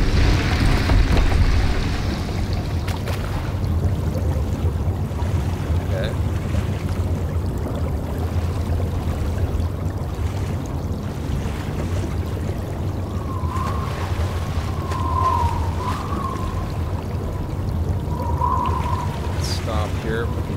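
Water rising and pouring in the Water Temple of the video game Praey For The Gods: a steady, full rushing wash that runs the whole time, with faint tonal calls and chimes floating above it late on.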